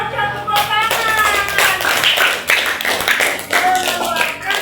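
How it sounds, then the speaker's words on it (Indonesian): A classroom of students clapping together, a dense burst of applause lasting several seconds, loud and close, with a voice speaking over part of it. "Cocok, tepuk tangan."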